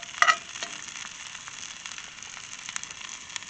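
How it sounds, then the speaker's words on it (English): Garlic frying in a pan on a conventional stove gives a close, steady crackling sizzle, with a brief louder spatter at the start, then an even hiss throughout. "Hear that nice sizzle."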